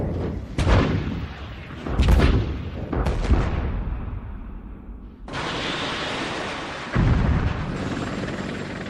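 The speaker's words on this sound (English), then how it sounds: "Arm this missile and I'll shoot it down range." Military missile launch and down-range explosions from a 1991 Gulf War setting: several heavy booming blasts in succession, followed by a sustained roaring rush of noise, loud and close.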